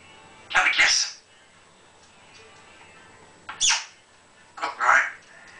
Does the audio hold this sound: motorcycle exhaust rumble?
no